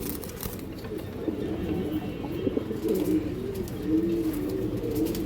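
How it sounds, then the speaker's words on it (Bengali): Green-necked pigeons coo at a breeding farm, soft low rolling calls overlapping in a close, continuous murmur with no voices. "এটা সবুজ গোলা কবুতর"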